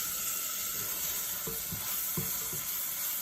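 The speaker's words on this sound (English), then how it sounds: "I do have my onions, green peppers, a little celery going in here" Onions, green peppers and a little celery sauté in a pan for brown gravy enchiladas, giving a steady close sizzle broken by a few short knocks and scrapes of stirring, with no talking.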